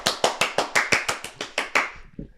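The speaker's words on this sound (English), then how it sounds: "Clap it up." Hands clap in a steady, evenly spaced rhythm, about ten sharp, close claps in a row before fading out, with no talking.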